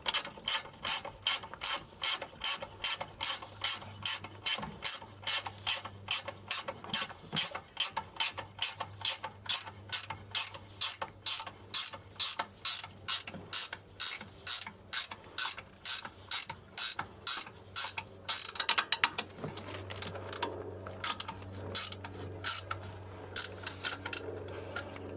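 A 14mm box wrench ratchets a bolt tight on a shock tower during a Bilstein 5160 shock install on a 2010 Dodge 3500 6.7 Cummins truck, giving a long run of steady, close clicking strokes that speed up, then stop near the end.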